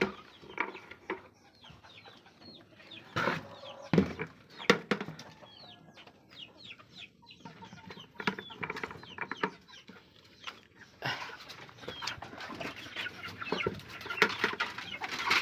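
Chickens at a farm coop strewn with dry leaves and rubbish, clucking and squawking in irregular bursts, some close and loud, others fainter, with brief flurries of activity.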